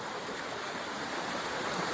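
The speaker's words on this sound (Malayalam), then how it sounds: "വെള്ളം നല്ല അടിപൊളിയായിട്ട് കുത്തി വലിച്ച് ഒഴുകുവാണ്." Knee-deep floodwater surges hard beneath and against a bridge, a dense, continuous rushing roar heard close up with no speech.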